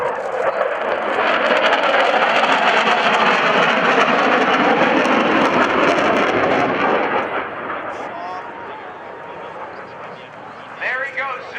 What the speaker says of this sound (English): A-18 Hornet photo pass.